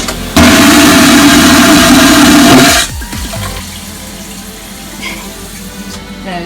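A cruise ship cabin toilet on the Carnival Ecstasy flushes with a loud, close vacuum roar of about two and a half seconds that cuts off abruptly, leaving a quieter gurgle and hum.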